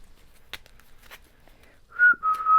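After faint rustling, a person whistles a few short, clear notes up close, brief and slightly wavering, with no talk.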